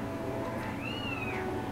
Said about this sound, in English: Get the cat.